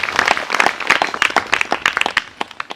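At a Christian healing service, a congregation claps for Jesus Christ in a quick, uneven patter of hand claps that stays fairly close and thins slightly toward the end.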